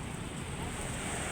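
Ocean waves washing onto a seashore, a steady broadband rush of surf with wind noise, continuous and fairly loud throughout.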